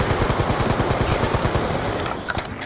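Rapid automatic gunfire from a Black Ops 2 Zombies firefight, a steady rattling stream of shots that runs continuously and loud, thinning out near the end with a few scattered higher clicks.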